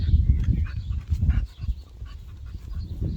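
A nervous, aggressive dog panting heavily and close by, a continuous rapid rhythmic breathing that eases slightly partway through.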